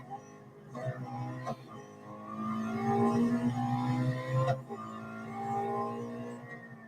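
A race car in the Real Racing 3 video game runs a lap, its engine whining and rising through revs in long tonal sweeps with brief dips at gear changes.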